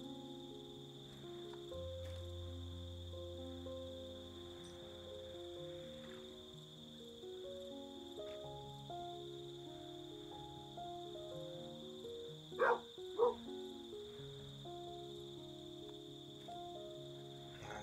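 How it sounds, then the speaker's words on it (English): Night crickets in the game Kingdom Two Crowns, a steady faint chirping bed mixed under layered ambient game music with drawn-out tones, plus two brief sharp accents near the end. "Sound of crickets."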